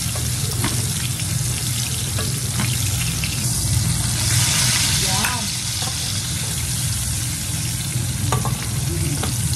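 Steak fries in butter in a pan with a loud, steady sizzle, mixed with scraping and stirring from a spoon and occasional clinks.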